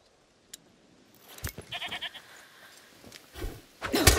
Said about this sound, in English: Is that the goat you talked about?